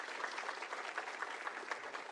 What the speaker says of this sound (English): Let's give him a little warm applause.